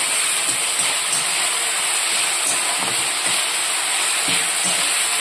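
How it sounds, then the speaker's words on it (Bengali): Spice mix with sugar frying in a pan for Bengali aloo dum, a steady close sizzle with soft crackles throughout, no talking. "এবার এটা ভালো করে আমি মিক্স করে লাল লাল করে ভেজে কষিয়ে নেব মশলাটা।"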